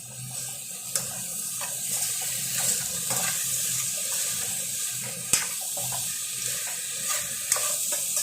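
Steady running water splashing as beans are washed, with occasional clinks and knocks of them being rinsed and handled, fairly close, no talking.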